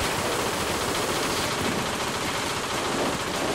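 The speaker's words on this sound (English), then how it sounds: "that's a machine gun outside" Sustained automatic gunfire from Payday 2, a dense unbroken rattle of machine gun fire filling the whole stretch at steady loudness, with no talk over it.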